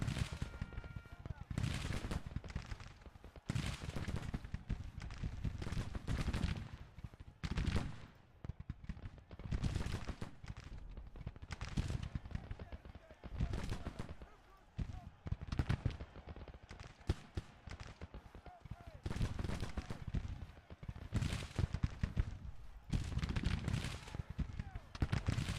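Musket volleys and artillery fire crackle and boom almost without pause in a Grand Tactician: The Civil War battle, loud, dense bursts rolling on through the whole stretch, with a voice talking over the gunfire.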